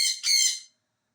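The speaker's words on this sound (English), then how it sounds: "he loves to scream like that" A pet parrot lets out a harsh, piercing scream in two quick bursts, loud and very close, then falls silent.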